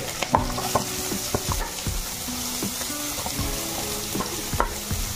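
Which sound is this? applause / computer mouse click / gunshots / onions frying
onions frying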